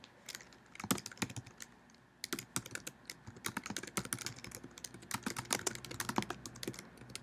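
Someone types on a computer keyboard, producing quiet, irregular bursts of close key clicks with a short pause partway through.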